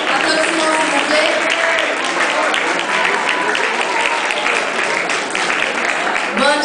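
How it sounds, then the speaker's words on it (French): A Paris audience at a forró dance contest at Bizzart applauds, bright continuous clapping from a packed room with crowd murmur and a few voices mixed in, lasting several seconds. "Applaudissements s'il vous plaît."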